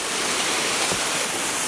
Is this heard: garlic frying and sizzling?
no